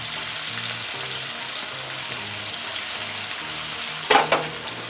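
Paneer pieces sizzle in a hot pan over lowered heat, a steady, close frying hiss running throughout, with one sharp clatter of a utensil near the end.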